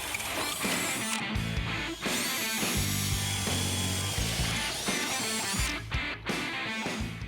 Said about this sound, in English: Then we'll just drill them out.